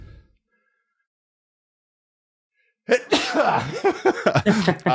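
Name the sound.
sneeze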